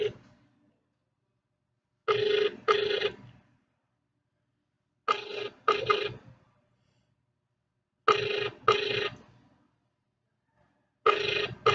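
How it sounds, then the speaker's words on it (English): Outgoing phone call ringing tone, four evenly spaced double-pulse rings about three seconds apart with silence between, clear and close, no talking. "So, we'll try to call Chandra Emil na Onyasa."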